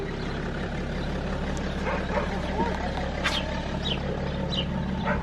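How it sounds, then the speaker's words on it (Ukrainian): A dog barks a few times a short way off during a visit to a family home in a village, the barks scattered under people talking, with a steady engine-like rumble underneath. "Песик не кусає?"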